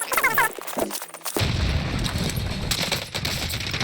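Rapid gunfire in the Warzone video game, a burst of sharp shots after a brief quieter start, then a loud dense rattle of automatic fire that continues close and strong.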